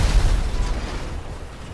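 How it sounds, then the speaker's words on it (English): A deep, rumbling explosion in the video game GTA V, loudest at the start and then fading into a broad, noisy decay, with no voices over it. "You gotta get away from the explosion."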